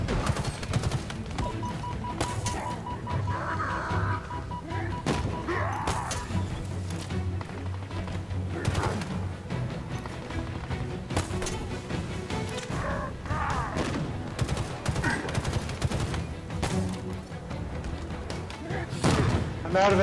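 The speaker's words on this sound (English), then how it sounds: "Use plasma pistol on him, shoot him with other things." Gunfire and plasma weapon blasts from the video game Halo Infinite pound in dense, continuous bursts with thuds and explosions. Players talk over the combat throughout.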